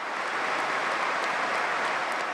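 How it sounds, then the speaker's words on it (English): A football crowd at the Spurs stadium before Tottenham versus Chelsea holds a minute's applause, a dense, even wash of distant clapping filling the ground without a break or any standout voices. "There was a minute's applause here and elsewhere, including at West Ham"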